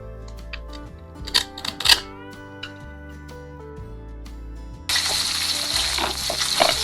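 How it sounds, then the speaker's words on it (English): A toy knife cuts through a velcro toy fish in a play kitchen: a quick cluster of scratchy ripping pulls, followed by a steady, noisy hiss. "Let's cut the fish first."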